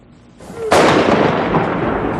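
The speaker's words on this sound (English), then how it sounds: "The gunfire was symbolic, honoring South Korea's new president as Secretary of State Colin Powell watched." A single sharp blast from a ceremonial gun salute cracks out and rolls into a long, booming echo that slowly fades, like a distant cannon shot.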